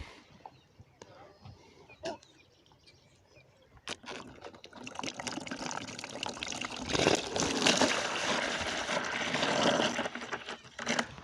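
Water pours out of a filled bottle. After a few scattered knocks and clicks, it rushes in a loud, steady splashing gush that lasts several seconds with no talking.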